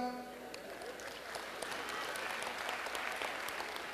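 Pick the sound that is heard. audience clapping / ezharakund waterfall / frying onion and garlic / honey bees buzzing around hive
audience clapping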